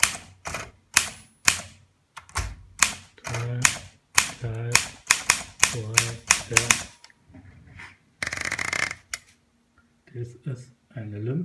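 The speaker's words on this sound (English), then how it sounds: "an Olympia SM3 typewriter, a nice typeface, I think." Keystrokes on an Olympia SM3 portable typewriter in good condition, a quick run of sharp, close clacks followed by a pause, a few scattered strikes and a carriage-return sound.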